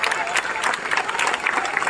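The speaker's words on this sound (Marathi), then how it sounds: "भाई आवाज बघा टाळ्यांचा भाई एकदम खतरनाक" A large crowd claps continuously and densely at a cricket match in Wankhede Stadium, with bursts of applause rising and falling across the stands, loud and close, with scattered cheering voices mixed in.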